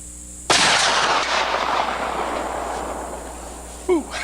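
A rifle shot rings out across a hilly outdoor range toward a steel disc target, one sharp loud crack followed by a long rolling echo that fades over several seconds, with a faint brief sound near the end.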